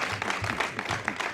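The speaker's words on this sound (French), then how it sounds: "M. Simon Gongo, sous nos applaudissements, s'il vous plaît." A TV studio audience applauds during the launch of a broadcaster's new programme schedule, producing a brief burst of clapping with a voice faintly audible underneath.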